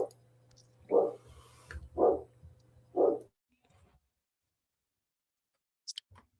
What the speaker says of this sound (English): now he wants to bark at everything that comes by